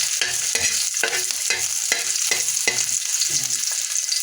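Garlic and onion sautéing in a hot pan, a steady sizzle broken by regular scraping stirs roughly every half second, close and loud with no talking.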